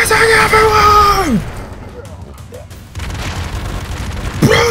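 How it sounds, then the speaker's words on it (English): Gunfire and explosions in the side-scrolling action game Broforce: dense blasts and rumbling booms run throughout, briefly dipping mid-way, with a voice shouting over the top at the start and end. "Guns blazing everywhere!"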